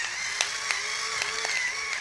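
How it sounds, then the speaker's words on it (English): A whirring electric pepper grinder runs close by with a steady buzzing drone, broken by a few faint clicks, with no talking. "Just electric pepper and electric salt"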